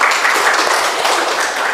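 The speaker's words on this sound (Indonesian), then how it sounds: "baik sekali, tepuk tangan buat semuanya" A school class claps hands together in a classroom during a mathematics lesson, a loud, dense burst of many hands sustained throughout without pause.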